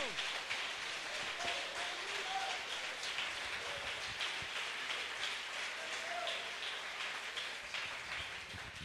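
A church congregation applauds the Lord during a sermon, a continuous, rain-like wash of many hands clapping, fairly faint and even, with voices mixed in.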